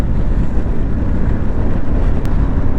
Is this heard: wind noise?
yes